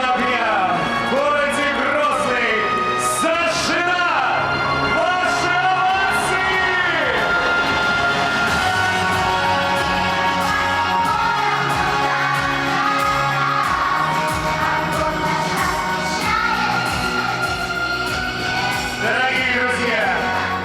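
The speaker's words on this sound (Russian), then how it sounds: "Ваши овации!" Stadium crowd at Akhmat Arena in Grozny cheers, yells and whoops loudly and continuously as the Olympic flame cauldron is lit, with music and voices blending into a dense, sustained roar.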